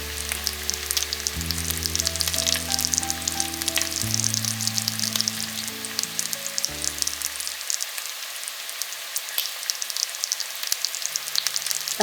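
Mutton kala bhuna sautés in a pan with a dense, continuous crackling sizzle, loud and close, under a low steady hum, with no voices.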